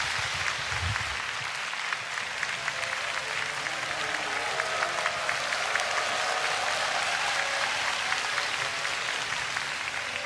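Concert audience at a Jeju 4.3 memorial music event claps steadily, a broad continuous wash of applause sustained throughout with faint low sounds early on and no talking.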